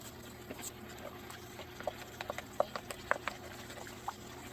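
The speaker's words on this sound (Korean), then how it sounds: "바글바글 양념 끓여줍니다." A chili paste sauce of gochujang, soy sauce, plum extract and rice syrup bubbling as it simmers in a pan for an anchovy stir-fry, with soft, scattered pops and blips over a quiet background.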